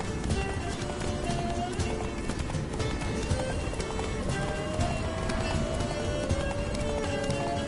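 A horse gallops in The Witcher 3 video game, with rapid hoofbeats drumming steadily and densely throughout over continuous ambient game sound.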